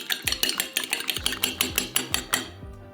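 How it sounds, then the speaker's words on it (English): A fork or whisk beating one large egg with salt in a bowl, giving a quick run of about a dozen sharp, rhythmic clicks against the side, close and clear with no voices. "1 large egg, some salt and just whisk."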